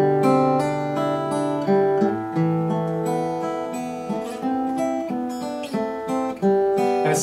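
Clean guitar notes with hammer-ons and pull-offs, played at a steady, deliberate pace: a run of distinct plucked notes with legato slurs between them, close and clear with no talk.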